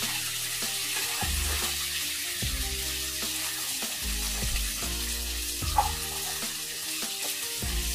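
Drumstick poriyal (murungakkai stir-fry) sizzling steadily in a pan as it is stirred after salt is added, with a continuous frying hiss and faint scraping throughout, no talk.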